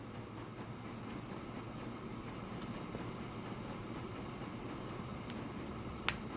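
A long train rolls steadily along in the railway game Archipelago, a constant low rumbling drone with faint clicks throughout and one sharp tick near the end, no talking.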